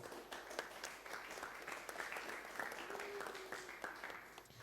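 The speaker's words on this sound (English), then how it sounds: "You can give them a round of applause" Applause at a demoscene competition after a music entry, a faint, distant crowd clapping steadily in a large hall, quiet and continuous.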